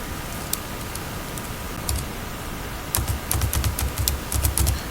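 Fingers typing a PIN on a computer keyboard, sparse clicks at first, then a quick cluster of close, crisp keystrokes over a faint steady background hum.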